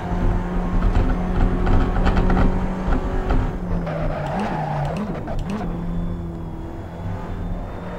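A race car in the Assetto Corsa racing game roars loudly at high revs, its engine note dipping and rising through gear changes while tires squeal and skid in the middle of the run, with no talk.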